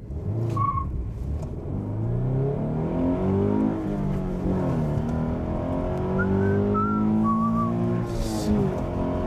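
A Toyota GT86 with a 200-horsepower engine accelerates, its engine revving steadily upward through the gears in a loud, sustained, rising drone with a brief higher whine, close and alone without talk.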